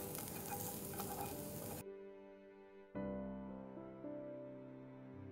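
Chopped onions and capers frying in butter in a pan, a dense sizzle that cuts off abruptly, then a quieter crackle with faint stirring.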